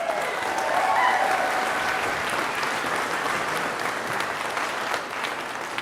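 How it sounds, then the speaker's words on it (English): A large commencement audience applauds steadily for several seconds, a dense, even wash of clapping that holds at a constant level without voices on top. "I'm going to need to ask you to hold your applause."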